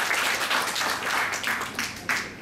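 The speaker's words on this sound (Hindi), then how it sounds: "प्लीज जोरदार ताली हो." Audience applause during a paramedic soft-skills training session at a hospital, a steady wash of clapping in repeating swells with no pause, filling the whole moment.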